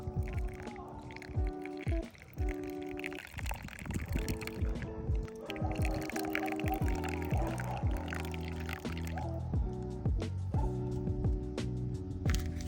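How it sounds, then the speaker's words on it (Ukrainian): Boiling water is poured slowly over drip coffee in a small cup, a gurgling, rising fill with bubbling and splashing that stops and restarts several times, heard close and clear without speech. "Ми беремо і потихеньку заливаємо сюди"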